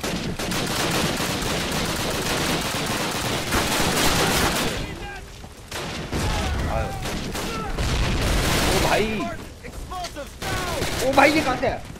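Dense, continuous gunfire and booming explosions from Call of Duty (2003), loud and chaotic for the first few seconds, then scattered shots and blasts with a voice talking excitedly over the battle.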